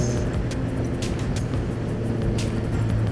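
Honda CB1000R motorcycle cruising as it shifts up to sixth gear, a continuous low engine hum with steady harmonics beneath strong wind buffeting, heard close from the rider's seat.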